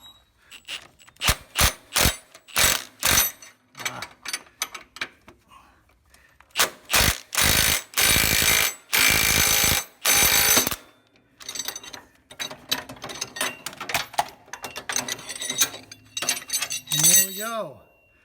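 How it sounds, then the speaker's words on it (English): A pulley puller works a tapered bearing pulley off the hydro pump of a Scag Turf Tiger mower, giving irregular metallic clicks, clinks and ratcheting bursts, loud and close, with a few brief pauses and some quiet talk near the end. "So then I can get this pulley puller. And let's see if we can actually get this"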